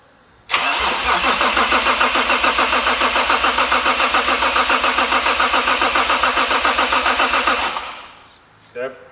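A Toyota Mk3 Supra, on its first proper start attempt while its timing is being set, cranks for about seven seconds in a loud, rapid, rhythmic churn close by, then stops abruptly, followed by a short trailing bump.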